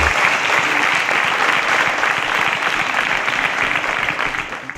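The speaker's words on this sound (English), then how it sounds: "A round of applause for Clara, please." An audience at a televised school competition show applauds a finalist with loud, dense clapping that holds steady for several seconds before tapering off at the end.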